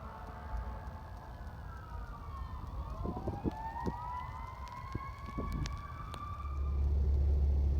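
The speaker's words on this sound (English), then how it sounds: "Hear the sirens in the background because" Distant emergency vehicle sirens wail and overlap on an icy winter day, faint against low road rumble, with a louder low hum building near the end.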